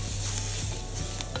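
Turmeric, salt and coriander powder are stirred into a hot pan for a weight-loss lunch recipe, giving a continuous close sizzle with soft scraping strokes and no voices.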